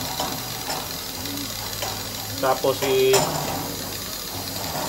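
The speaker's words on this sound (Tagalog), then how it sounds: "Maandar na po ang ating vacuum pump." A vacuum pump runs steadily during an upright freezer repair, a constant mechanical drone under background clatter, with someone briefly speaking over it.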